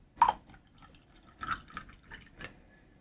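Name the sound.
pouring steeped ginger black tea into a cup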